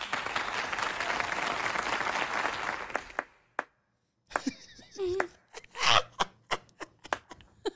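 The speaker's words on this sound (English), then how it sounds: "Clap one more time" Cartoon audience at a men's chorus performance gives a burst of dense clapping that cuts off abruptly, followed after a pause by a few scattered single claps and short voiced sounds.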